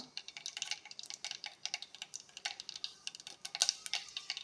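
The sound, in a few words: mustard seeds spluttering in hot oil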